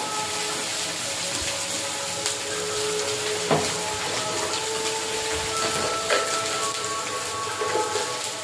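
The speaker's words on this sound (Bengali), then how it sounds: "একটু নেড়ে চেড়ে মশলাটা ভালো করে কষিয়ে নেব" Ground turmeric and chilli powder sizzle in hot oil for a snakehead fish curry, a dense, crackling hiss that goes on steadily, with scattered clinks and knocks from a spoon stirring the pan.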